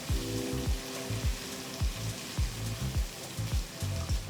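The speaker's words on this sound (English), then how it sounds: "add the ground masala into the oil and we're just going to cook this in oil" Ground masala frying in hot mustard oil gives a steady close sizzle, with rhythmic scraping and stirring strokes roughly twice a second throughout and no talking.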